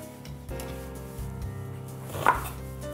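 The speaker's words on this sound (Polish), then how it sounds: "Drobno siekamy cebulę i czosnek." Knife steadily and finely chops onion and garlic on a wooden cutting board in a kitchen, with a run of close, quick, even taps and one sharper knock near the end.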